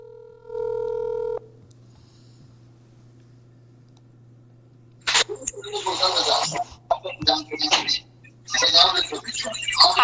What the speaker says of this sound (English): Just trying to see if I can get his mother on the phone here.